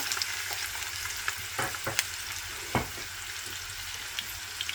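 A small chopped onion fries in a pan for Chicken Manchurian, giving a continuous close sizzle broken by a few clicks and scrapes of stirring.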